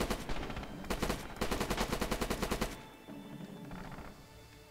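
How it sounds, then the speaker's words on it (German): Rapid machine-gun bursts in the World War II shooter Red Orchestra 2, two long, fast rattling volleys close and loud, then a lull with softer distant firing. "Aber irgendjemand schießt da."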